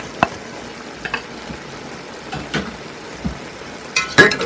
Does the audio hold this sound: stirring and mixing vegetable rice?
yes